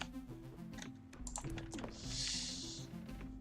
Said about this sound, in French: le clavier et la souris s'entendent énormément